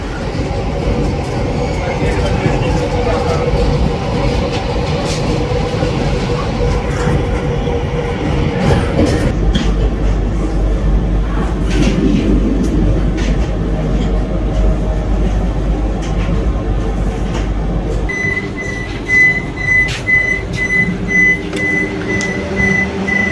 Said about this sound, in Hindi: तो ट्रेन फाइनली हमारी पहुंच गई है अंजी घाट ब्रिज के ऊपर